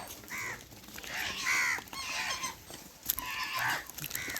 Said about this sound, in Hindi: कौवा भी बहुत सारे आ गए यहाँ तो